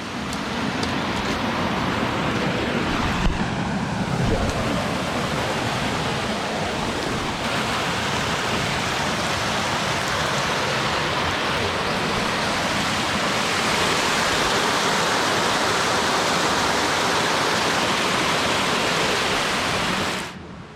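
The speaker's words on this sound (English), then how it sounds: "This is probably the nicest waterfall yet so far." A waterfall roars steadily in the wilderness of British Columbia's Monashee mountains, a dense, loud, unbroken rush of falling water close by, with no voices over it.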